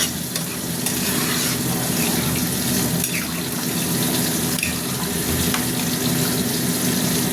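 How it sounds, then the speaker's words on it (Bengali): Water goes into a hot cooking pan of eggplant that has been catching on the bottom, giving a steady close sizzle and bubbling with no pauses. "এবার আমি জল দিয়ে দিচ্ছি"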